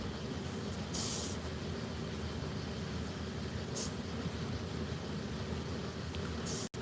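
Air chuck pushed onto a valve stem, giving a steady low hiss with several short, sharper bursts of escaping air as it is pressed on and shifted.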